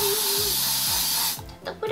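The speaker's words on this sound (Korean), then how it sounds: "잔뜩 뿌려주겠습니다." L'Oréal hair spray sprays in one loud, steady aerosol hiss lasting over a second, close by, with a voice talking beneath it before it cuts off.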